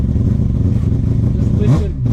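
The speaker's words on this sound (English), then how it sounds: "Extremely intimidated to even sit in it with this thing idling." A four-rotor Mazda RX-7 idles close up from inside the cabin: a deep, lumpy, continuous rumble with a brief rising blip near the end, heard while people talk.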